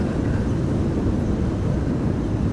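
A KLM Embraer 190 arriving at Amsterdam Schiphol during high winds from Storm Benjamin: steady, broad low rumble of jet engines mixed with gusting wind roar, continuous and fairly loud throughout, with no talking.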